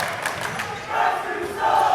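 A basketball crowd at a boys' high school semifinal game roars in disbelief at a referee's call, a loud sustained surge of shouting and booing that swells again near the end.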